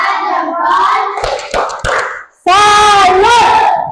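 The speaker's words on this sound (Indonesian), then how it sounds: "Kasih tepuk salut." A group claps hands together in a classroom cheer, a burst of dense clapping under a loud voice, then a sharp break before chanting voices resume.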